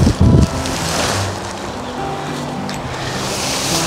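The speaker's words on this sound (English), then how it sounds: "God damn this wind, man." Strong wind outdoors at a backpacking campsite by a reservoir, a loud steady rushing roar that buffets the microphone, with a few heavy thumps at the start.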